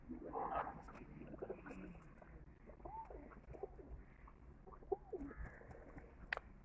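Pigeons coo softly at a farmhouse loft in repeated low, rolling calls, fairly close, with a faint background hum and a few brief chirps.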